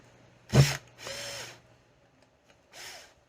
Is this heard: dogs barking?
no